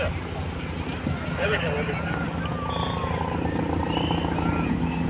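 An ambulance helicopter approaches a hospital helipad in Chennai to land, its rotor drone rising steadily under a person talking throughout.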